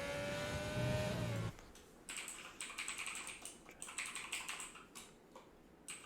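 Keyboard typing in quick, irregular bursts of clicks, entering names for an F1 2020 online race lobby, close and fairly quiet, after a brief stretch of music at the start.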